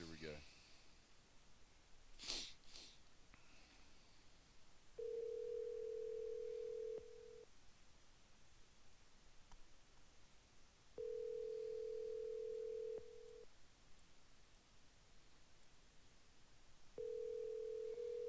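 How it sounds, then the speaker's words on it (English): A phone ringback tone sounds three times, each a steady two-second hum separated by long quiet gaps, with a faint click early on. "It's ringing."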